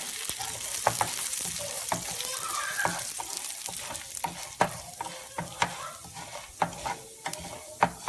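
Urad dal and chana dal fry in a pan for pudhina thokku, giving a steady close sizzle broken by sharp repeated spatula clicks and scrapes as the dal is stirred, with no talking.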